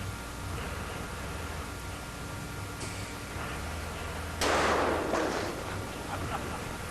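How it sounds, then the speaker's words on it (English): A single heavy cannon blast bursts out over a steady rumbling background as a ship arrives through the piers, followed by a few fading echoes and scattered smaller thumps. "One final cannon blast signaling her arrival through the piers."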